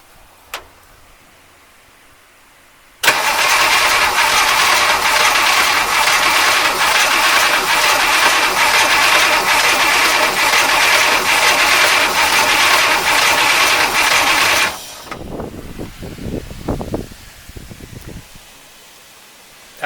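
A 1953 Oldsmobile Rocket Super 88 engine from a barn find, cranked from the battery, churns loudly and steadily for about twelve seconds, then stops, leaving faint clattering and rustling.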